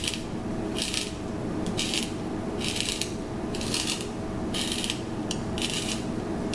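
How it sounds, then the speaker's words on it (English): A handheld vegetable spiralizer is cranked by turning the vegetable against the blade, giving a steady run of crisp scraping bursts at a regular rhythm over a constant low background rumble, close and moderately loud. "go ahead and just turn the vegetable, keeping the spiralizer steady"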